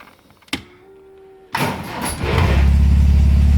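A classic MGB engine cranks and catches after a click and a brief electrical whine, then settles into a loud, steady low idle rumble close by.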